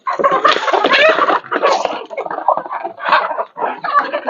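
Aseel chickens cluck in a steady run of close, busy bursts, several birds overlapping with brief pauses between calls.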